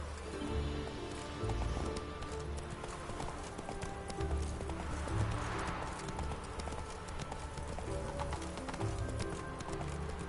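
Hoofbeats of the horse Roach in The Witcher 3, a steady clip-clop rhythm carried continuously alongside game ambience and music, moderately loud and unbroken.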